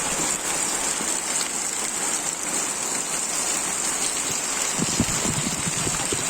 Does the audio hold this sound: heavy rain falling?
yes